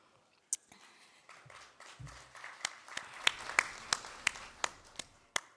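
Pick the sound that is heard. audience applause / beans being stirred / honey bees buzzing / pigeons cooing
audience applause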